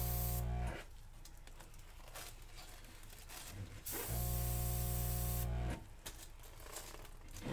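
An airbrush sprays acrylic paint in flower work, a steady close airy hiss in long bursts broken by short pauses, with loud blasts at the start and near the fourth second.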